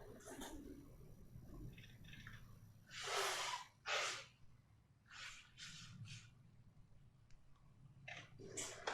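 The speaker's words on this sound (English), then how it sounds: "I really gotta blow my nose." A person blows their nose in a couple of loud, close, forceful nasal bursts, with quieter sniffs and breathing before and after.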